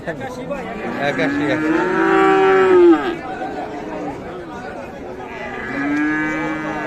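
A crossbred Friesian cow moos twice at a cattle market in Dinajpur, Bangladesh, a long low call followed by a shorter one, while people chatter in the background.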